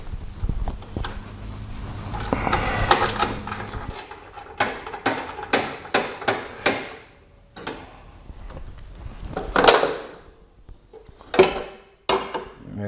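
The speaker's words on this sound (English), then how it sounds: "So let me go get a ratchet, take that off." A hand ratchet works a bolt off a lawn mower, with rough metallic scraping at first, then a series of sharp, close ratcheting clicks in short irregular bursts with pauses between.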